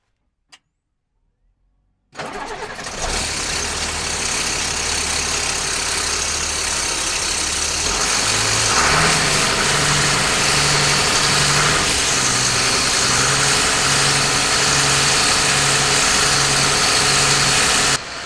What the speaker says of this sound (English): The tractor was making a heck of a racket